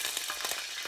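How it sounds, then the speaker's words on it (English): Fish frying on a stove in a pan, a short burst of soft, steady sizzling with faint crackles, heard alone without talk. "hear that sizzling sound?"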